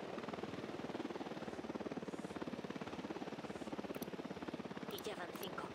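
A helicopter in Ghost Recon Wildlands descending toward the ground, its steady rhythmic rotor thump faint and continuous throughout.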